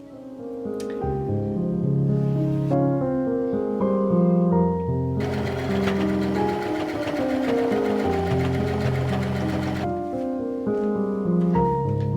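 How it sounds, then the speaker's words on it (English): A sewing machine runs steadily while stitching trim onto a nightgown. The motor drones loud and close with varying pitch, and a brighter rattling stretch comes in the middle. "So let's start sewing this trim and finishing this nightgown."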